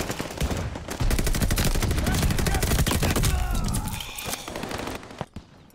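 Rapid submachine gun fire bursts loud and dense through a Call of Duty Vanguard Blitz Team Deathmatch match, with sustained rattling volleys that fade out near the end.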